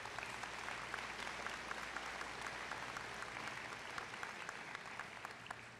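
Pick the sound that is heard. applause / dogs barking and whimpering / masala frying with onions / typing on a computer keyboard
applause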